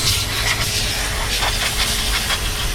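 A car steamer machine sprays a steady, loud hiss of steam alone, continuous broadband rushing with faint low hum beneath and slight pulsing surges.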